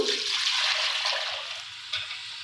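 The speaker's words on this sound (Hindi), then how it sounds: "मैरिनेशन वाले बाउल में मैं ऐड कर रही हूँ 1 गिलास पानी" Water gushes and splashes steadily into a bowl of mutton biryani marinade, a continuous rushing pour that tapers slightly near the end.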